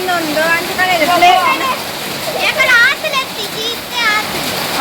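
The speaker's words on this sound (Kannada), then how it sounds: "ಬರ್ಸ ಕಂಟಿನ್ಯೂಸ್ ಬರ್ಸ ಬರೋದು" Continuous heavy rain makes a steady wash of hiss and splatter that stays beneath loud, close talking throughout.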